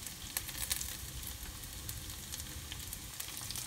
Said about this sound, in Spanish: Mientras se está dorando la cebolla